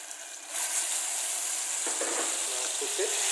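Mahua flower paste sizzles and fries in hot ghee in a pan, a steady bright hiss that jumps up loudly as the paste goes in, with a few faint stirring scrapes near the end.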